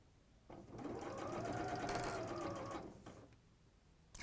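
A sewing machine runs a steady stitching burst through thermalam fabric for about two seconds, a close, even mechanical whir that starts and stops cleanly.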